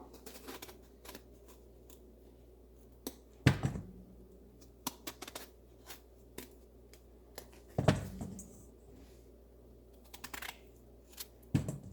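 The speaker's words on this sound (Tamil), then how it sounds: "நாங்கள் இப்போ இந்த கத்தரிக்காயை வெட்டுவோம்" A knife slicing eggplant into thin rounds on a board in a home kitchen while making a spicy eggplant curry, heard as a few sharp, close cutting thunks spaced several seconds apart among faint small clicks.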